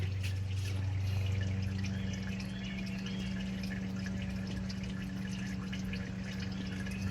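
Warm engine oil drains steadily from a Fiat 500 during an oil change, a continuous trickling pour with a low hum beneath, close and unbroken throughout with no talking.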